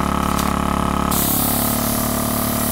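An airbrush in a siphon-feed setup sprays onto the back of vinyl, a continuous close hiss of spraying air over a steady compressor hum, one unbroken burst lasting a few seconds.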